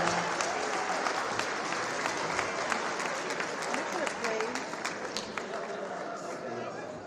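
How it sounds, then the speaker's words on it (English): Audience applause following a presentation, a steady, fairly distant wash of many hands clapping that runs throughout, with murmured crowd chatter mixed in. "Can we make a big round of applause for Nigella?"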